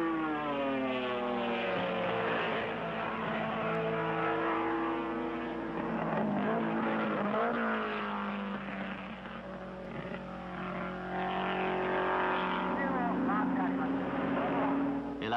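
Mazda rotary race cars, two RX2s and an RX3, racing at Fuji in the 1972 Fuji Masters 250 km, give a loud, sustained engine wail that rises and falls in pitch, with a commentator talking over it throughout.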